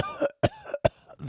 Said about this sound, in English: punctuated by a hoarse cough